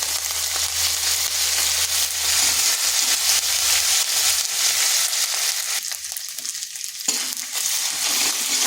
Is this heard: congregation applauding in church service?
no